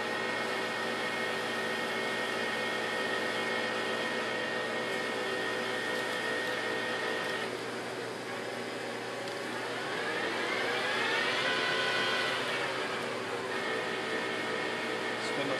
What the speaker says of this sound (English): The spindle's running.